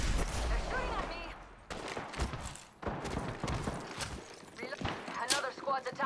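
Gunfire in the video game Apex Legends, with bursts of shots and clattering combat effects mixed with in-game voices throughout.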